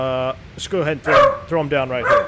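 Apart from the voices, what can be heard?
dog barking, trapped in the room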